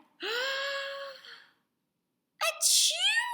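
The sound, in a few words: storyteller imitating a sneeze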